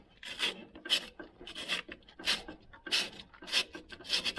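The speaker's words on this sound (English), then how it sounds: "Just using my finger to press the sandpaper in and then run it along." Sandpaper pressed by finger and run along the groove of a drive pulley wheel on an old 1970s ride-on mower, giving close, rhythmic raspy strokes about twice a second.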